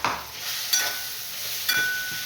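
Ground spice paste sautéing in a pan for a mixed spinach and dill vegetable dish, a soft steady sizzle broken by two brief scraping stirs of a spoon against the pan.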